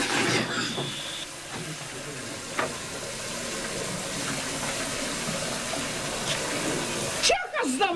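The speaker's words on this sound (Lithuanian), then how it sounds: "Tu kaip čia vandenį leidi?" Water runs into a bathtub with a steady hissing rush throughout, and voices and a few brief knocks come in over it before a sharp change near the end.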